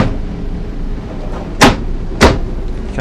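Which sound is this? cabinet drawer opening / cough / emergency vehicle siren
cabinet drawer opening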